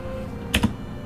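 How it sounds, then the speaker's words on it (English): Two quick computer keyboard key presses, close by and fairly soft, over a steady background hum, with no one talking. "you can hear me press the keyboard"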